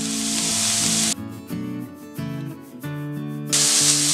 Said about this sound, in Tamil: அடுத்து பீன்ஸ், ரெண்டையும் ஒரு 30 செகண்ட்ஸ் வதக்கி விட்டுடலாம்